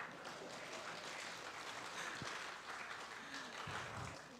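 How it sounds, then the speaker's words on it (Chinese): Moderate applause from a church congregation at a Sunday worship service on Father's Day, a fairly quiet, continuous patter of clapping with some low murmuring voices and scattered thumps mixed in. "拍手哦！"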